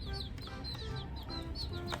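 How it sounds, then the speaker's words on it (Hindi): Small quail and chicks in a farm setting give repeated high, short chirps and peeps in quick irregular succession, close by and fairly loud over a low background rumble. "दिस इज नॉट चूजा, दिस इज बटेर"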